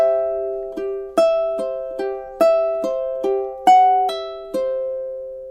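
Measures three and four of a relaxing fingerstyle ukulele piece, played as a steady sequence of about ten plucked notes and chords that ring and overlap, alone and close.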